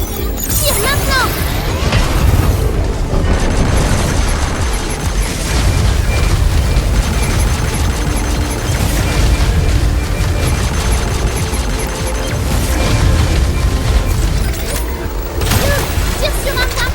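Shooting and explosions in the video game Pragmata, with repeated loud booms, bursts and mechanical clatter across the whole stretch under game voices and talk.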